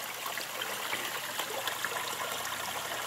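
Water rushes steadily through a 2-inch PVC pipe venturi used for aeration, bubbling into a bucket through a bypass line; a continuous, close, broadband hiss of flow with no pauses and no voices.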